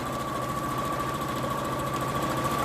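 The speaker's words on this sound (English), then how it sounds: "Just do a straight seam all the way to your pin at the end" Sewing machine running a straight seam on a scrub bag, a steady close mechanical whir with a fast even needle rhythm and a constant tone, no talking.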